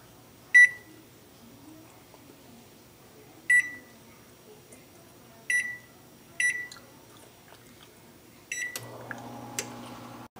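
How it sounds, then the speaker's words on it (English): An oven beeps sharply as it is set to preheat to 300 degrees: five short, clear electronic tones spaced a second or two apart, followed by a low steady hum with faint clicks as the oven starts up. "Now preheat your oven to 300 degrees."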